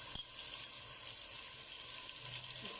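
Ginger-garlic paste frying with onions in a hot pan, a steady sizzle that stays even throughout after a brief clink at the start, with no voices.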